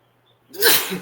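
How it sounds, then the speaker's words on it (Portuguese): A single sharp sneeze from a man with a bad cold bursts out loud and close after near silence, in a virtual study session on a spiritist book. "Se eu espirrar mais uma vez, você me perdoe."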